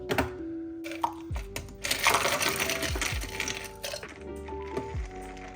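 Ice cubes dropping into a cup for an iced espresso drink, a burst of hard clinks and rattles in the middle followed by scattered knocks and taps, close and fairly loud, with no talking.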